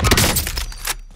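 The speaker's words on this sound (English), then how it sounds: "Grenade out!" A grenade explodes in a first-person shooter game, one loud, close, sharp blast with a crackling burst that quickly fades to quiet within a second.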